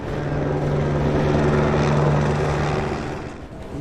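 Helicopter flying overhead during a large joint police operation in Los Angeles, a steady loud rotor and engine drone with a strong low hum, constant throughout and slightly fading at the end.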